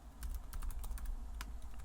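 Rapid keystrokes on a computer keyboard, a dozen or so sharp clicks in an uneven rhythm, close and moderately quiet with no talk.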